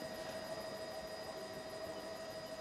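Helicopter over the Bahrain Grand Prix circuit in 2004, a steady faint distant rotor and engine drone with a constant whine, no speech.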